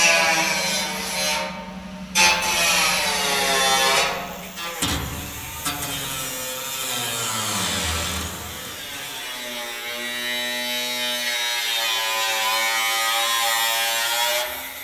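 Angle grinder on corrugated steel of a shipping container, a loud high whining buzz that starts, dips, cuts out briefly and then settles into a long steady grinding drone.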